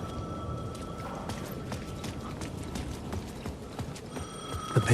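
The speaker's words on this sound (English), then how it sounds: "The payphone at the edge of the plaza was ringing again." A payphone rings at the edge of a plaza in the video game Alan Wake 2, its steady electronic tone sounding through dim ambience with soft, repeated tapping beneath.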